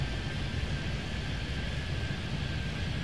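Aircraft takeoff in the Airport Madness 3D airport game, Miami, heard as a steady, loud broadband roar of jet engine noise with a thin constant tone above, unbroken across the whole stretch with no talk.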